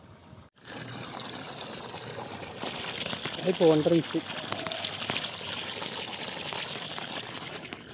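Water gushes steadily from the 1.5-inch delivery outlet of a Versil PMSM 3hp solar pump, a continuous rushing flow that starts abruptly, with a voice briefly speaking over it.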